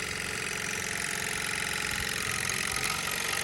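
A Mamod toy steam wagon's engine runs at full power, a steady dense chuffing and hissing with exhaust blowing out the chimney, loud and continuous throughout.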